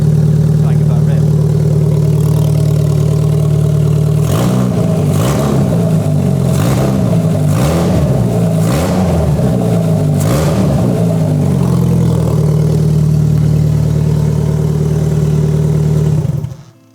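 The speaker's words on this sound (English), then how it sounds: "That engine is sounding so sweet, loud but super smooth." A freshly rebuilt Rover 25 engine idles steadily, then is revved in a series of about six sharp, loud bursts before settling back to a smooth, even idle, close up and alone.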